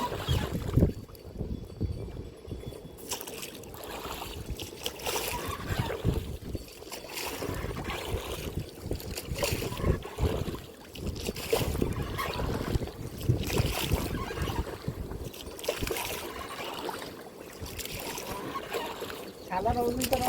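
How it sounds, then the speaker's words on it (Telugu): An engine boat on the river at Pandharpur, a steady rumbling motor with wind buffeting and water wash running throughout, close and continuous, with people talking over it. "బోట్ వచ్చేసింది కదా, ఇంజిన్ బోట్"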